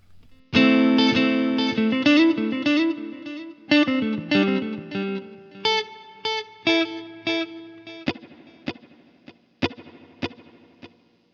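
Guitar run through a Line 6 Helix with spring reverb ahead of the delay, chorus-tinged and slightly driven: a strummed passage thinning into single plucked notes, each followed by echoing repeats and a lingering wash that decays toward the end.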